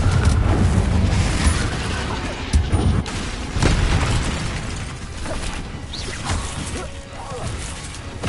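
Spell blasts from Hogwarts Legacy combat, including the Confringo blasting spell, go off as sharp booms and crashes over a loud, busy bed of battle noise, with a few stronger hits standing out and voices calling out spells.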